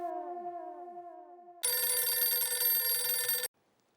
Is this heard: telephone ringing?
yes